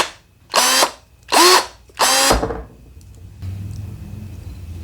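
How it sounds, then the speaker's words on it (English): A DEWALT pruner cuts through a thick battery cable three times in a row, each a loud, close burst of motor whine lasting about half a second with short gaps between, followed by quiet room noise. "you can also trim battery cables"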